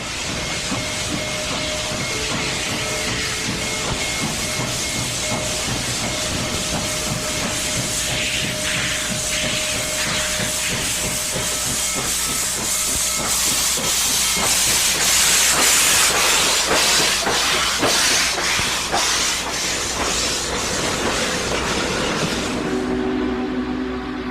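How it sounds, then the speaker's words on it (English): A steam locomotive hisses loudly and steadily with rhythmic chuffing throughout, the hiss swelling midway before the sound cuts off near the end. "Here comes the steam engine."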